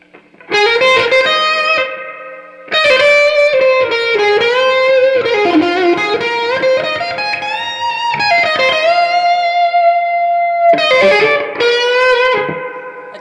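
Electric guitar through a Marshall JCM 2000 DSL 50 amp with reverb turned up to three o'clock, giving loud distorted chords and bending lead lines a long, drenched wash, with brief gaps between phrases.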